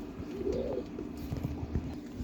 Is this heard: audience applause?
no